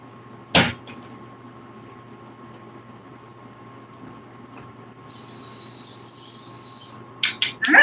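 A spray can lets out a sustained hiss lasting about two seconds in a quiet room, followed by a few short bursts. A knock or clatter comes earlier.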